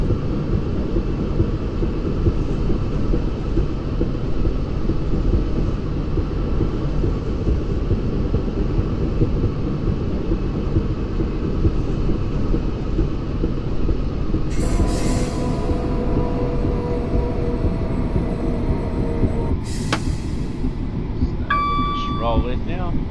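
A passenger train in Train Simulator Classic on a North London line brakes and rolls into a station, with a steady loud rumble of wheels on track, then sharp high brake squeals and short whistling tones near the end.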